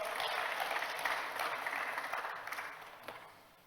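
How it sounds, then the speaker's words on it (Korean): Church congregation applauding during a Sunday sermon, a steady wash of many hands clapping at moderate distance that gradually fades out toward the end. "박수."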